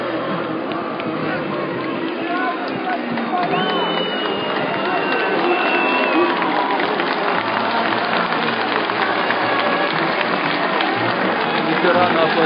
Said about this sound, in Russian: Ветераны аплодируют.